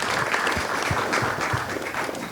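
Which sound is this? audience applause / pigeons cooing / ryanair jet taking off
audience applause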